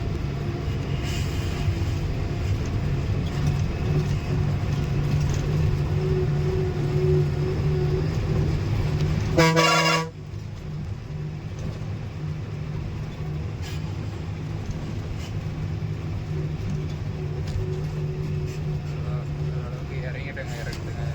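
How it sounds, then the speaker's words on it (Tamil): A tipper truck loaded with tar labours under power, a deep continuous engine drone with a brief harsh clatter near the middle before settling into a slightly quieter hum, while someone talks over it. "ஆனால் வண்டி எப்படி இழுத்துட்டு போகுதுன்னு பாருங்கள்."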